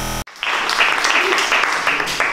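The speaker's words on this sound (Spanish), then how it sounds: "Vamos a, con un fuerte aplauso, a recibirlo a Ligi Molina" Sustained applause from an audience at a cultural association's women's assembly, dense steady clapping filling the room for a couple of seconds after a brief opening voice, with faint talk mixed in.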